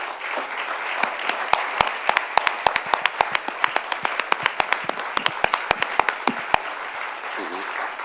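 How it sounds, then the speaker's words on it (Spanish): Audience applause with crowd clapping at a talk or public discussion event, dense and sustained for several seconds with sharp individual claps standing out, fading toward the end. "le vamos a dar un aplausico"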